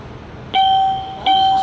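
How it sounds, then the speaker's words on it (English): An Electra hydraulic elevator at Gan Ha'Ir Mall in Tel Aviv sounds two clear, bright electronic chime tones in quick succession, each ringing out and fading slightly over a low mall hum. "This one has got a chime, as I know."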